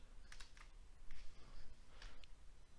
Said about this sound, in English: Grab your fingers there and press the Windows key plus E.